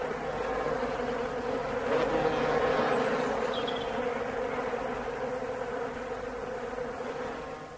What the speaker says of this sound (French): Regardez, c'est l'abeille.